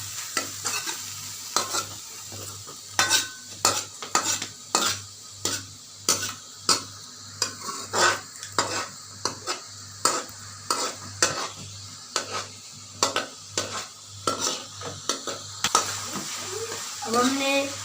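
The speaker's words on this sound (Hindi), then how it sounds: "अब हम इसमें थोड़ा सा पानी डालेंगे। हम इसको हिलाएंगे।" A spoon scrapes rhythmically through carrot curry frying in a pan, a steady series of sharp stirring strokes over a continuous sizzle, close and fairly loud.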